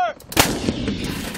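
A military explosive charge detonates during field training at the National Training Center, a single sharp, loud blast followed by a rumbling decay.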